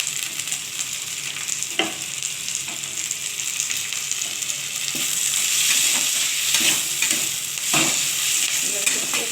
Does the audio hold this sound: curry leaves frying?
yes